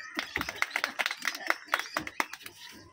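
Applause from a small group at a home family quiz game, a run of sharp hand claps at an uneven pace, fairly close, with voices talking over them.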